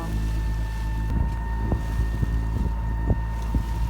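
A steady low engine drone from a sailboat motoring at sea off Saint Martin, with wind buffeting the microphone and faint knocks over the continuous hum.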